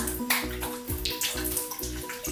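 Water splashes at a bathroom sink as a face is wetted before cleansing, with repeated bursts of splashing over a steady running tap, close and fairly loud.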